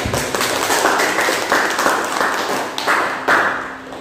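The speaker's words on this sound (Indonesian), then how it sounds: "Tepuk tangan untuk Nita." Classroom applause for a student after a group story presentation, a steady dense patter of many hands clapping at moderate loudness throughout, with no voices over it.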